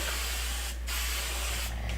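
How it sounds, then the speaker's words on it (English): Hairspray hisses from an aerosol can onto hair in short bursts, a close, loud, airy spray with two brief pauses between the bursts. "if I want my hair to stay in place, I usually just spray a little bit."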